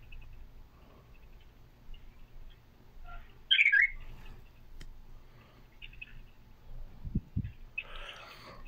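Birds kept in cages call with a brief bright chirping burst midway and another cluster of calls near the end, over low background rumble and a few soft knocks.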